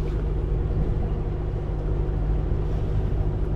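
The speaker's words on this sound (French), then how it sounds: "Heureusement qu'on a l'appui du moteur." Steady low rumble of a sailboat's auxiliary engine under way near the granite coast toward La Maddalena, constant and fairly loud with no speech.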